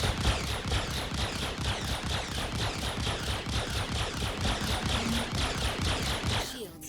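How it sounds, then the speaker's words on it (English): Ship repeater weapons in the space game Star Citizen fire a rapid, steady stream of loud rhythmic energy shots during distortion damage testing, sustained for several seconds before cutting off abruptly. "it doesn't look like the repeaters are shutting it down"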